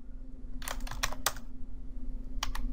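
Quiet clicks from a computer keyboard, one short burst of keystrokes followed by a pause and then a couple more taps, over a faint steady hum.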